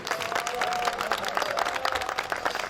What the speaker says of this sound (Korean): 다시 한번 수고하시는 우리 심판진들에게 박수 좀 뜨겁게 한번 보내주세요